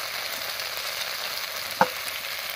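Spice paste frying in oil in a pan as salt and turmeric go in, a steady soft sizzle with one brief sharp tap partway through, close and unaccompanied by any voice.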